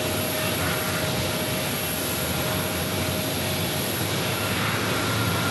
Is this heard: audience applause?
no